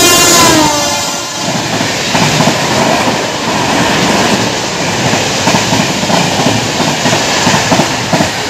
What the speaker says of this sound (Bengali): তো চলো, আমাদের ট্রেন এসে গেছে।